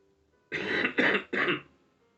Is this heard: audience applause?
no